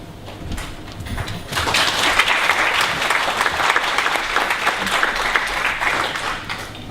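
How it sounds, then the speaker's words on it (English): An audience at an academic Festschrift gathering bursts into applause after a short, quieter opening, then keeps up a loud, continuous clatter of many hands clapping in a large room. "I must get used to the idea of having applause at the beginning"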